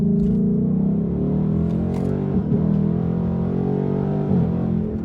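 A tuned 2018-2019 Ford Mustang GT V8 pulls away from a standstill, its steady loud exhaust drone rumbling throughout with brief shifts in tone around mid-acceleration.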